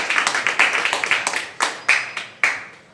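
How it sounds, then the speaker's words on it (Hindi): Applause at a New Year event of the Vikasika organisation in Kanpur, welcoming Dr. Vinod Tripathi: a brief run of quick claps, then a few sharp, separate, spaced-out claps that fade away. "जोरदार तालियों के बीच डॉक्टर विनोद त्रिपाठी"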